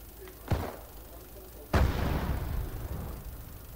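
Gunfire in Arma 3 Iron Front, a World War II shooter: a faint crack, then a loud, close blast that trails off into a long rumbling tail, with a voice under the noise.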